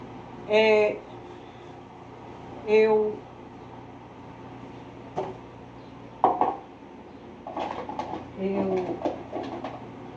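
Dishes are being washed at a kitchen sink, giving occasional clinks and clatters of crockery over a steady background hum while someone talks.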